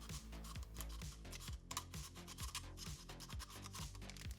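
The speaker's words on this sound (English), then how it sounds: "which I'll also rough up with some sandpaper to expose the bare metal" Sandpaper roughing up a metal soda can tab to bare metal, a quiet, rapid back-and-forth scratching rub repeating in short strokes, close up and without speech.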